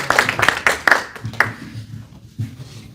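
A small audience gives a few sharp, close claps to welcome a speaker at a Korean diaspora forum lecture, then the claps thin into scattered faint taps.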